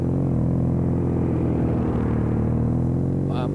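A car passes on the road while a learner rider practises for a Spanish A2 motorcycle licence, a steady engine rumble and hum sustained throughout under wind noise.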